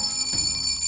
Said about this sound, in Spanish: Y cuando veas algo, toca esta campanilla